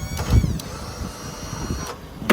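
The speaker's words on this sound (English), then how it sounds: "winch down, winch up." A crane winch on a 2013 Ford F550 4x4 mechanics service utility truck runs with a thin, steady electric motor whine, bracketed by sharp mechanical clicks and clunks at the start and end of the movement.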